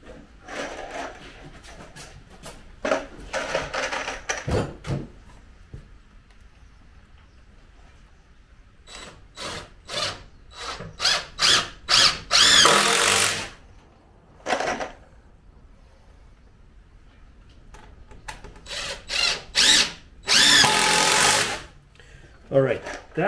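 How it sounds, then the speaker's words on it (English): A power drill drives fasteners into wood while a 28-foot sailboat mast is built, giving several loud bursts of whirring close by, separated by pauses and quieter handling noises. "I'm just going to drive a couple of fasteners in just to hold it in place to keep it from skating"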